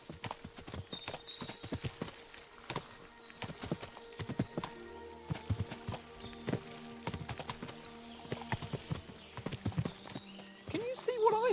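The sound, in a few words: horses' hooves clip-clopping, Kingdom Come Deliverance 2 video game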